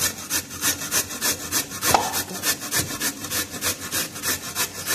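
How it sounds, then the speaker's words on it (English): Sweet potato (camote) scraped back and forth over the larger side of a hand grater, a steady rasping rhythm of about four strokes per second, close and loud with no voices. "We need to grate this, like this."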